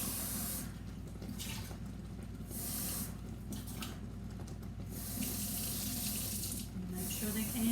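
Cold water runs steadily from a kitchen tap into a sink, a continuous close hiss with slight surges in flow.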